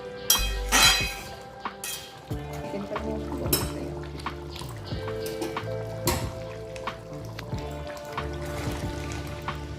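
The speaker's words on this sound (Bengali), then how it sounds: "গরম মশলা একটু কাঁকড়ার সঙ্গে মিশিয়ে নিচ্ছি" A spoon clinks and scrapes against a pot while garam masala is stirred into a spicy Sundarbans crab curry, with repeated sharp metallic knocks over a soft sizzle.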